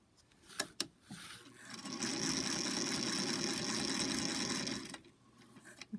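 A sewing machine stitches fabric under an edge joiner foot, running in one steady, fast burst for about three seconds after a couple of sharp clicks, then stopping.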